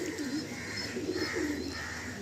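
A Giribaj pigeon in a loft giving soft, low cooing calls in short repeated swells, fairly faint and close, with no voices.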